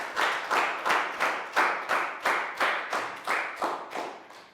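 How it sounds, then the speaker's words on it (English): A class of schoolchildren claps in unison, about a dozen sharp, evenly spaced beats close by, with no talking over it. "Big round of applause."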